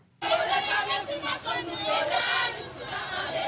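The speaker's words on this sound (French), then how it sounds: "La foule arpente l'avenue Charles Sommer, pancarte en main, lançant des slogans contre les autorités" A protest crowd marching along Avenue Charles Sommer with placards, chanting slogans against the authorities, a loud sustained mass of shouting voices that starts abruptly and carries on steadily.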